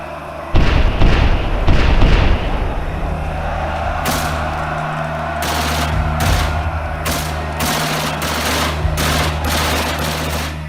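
An M2 carbine and machine guns fire in a battle reenactment, loud and close, first as a dense rattling burst and then as scattered sharp shots over a low steady rumble.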